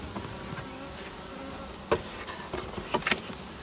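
Honeybees swarming around their queen at an open hive, a steady faint buzzing hum with a few sharper close passes, heard alone without talk.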